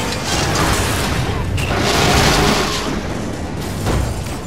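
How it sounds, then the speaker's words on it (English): Big explosion during a laboratory break-in in LEGO Marvel Super Heroes on PS3, a loud rumbling blast with dense sustained noise that swells in the middle and tails off, with brief sharper hits. "Possible laboratory break-in confirmed by big explosion."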